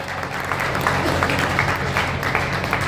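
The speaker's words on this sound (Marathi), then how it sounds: "आवडला असेल तर मोस्टली मंडळी टाळ्या वाजवा." An audience claps in a dense, continuous round of applause, fairly loud and even from start to finish.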